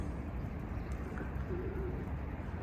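A young stray female pigeon, just caught, gives soft low cooing under a steady background hiss, one gentle coo drawn out in the middle, close and quiet.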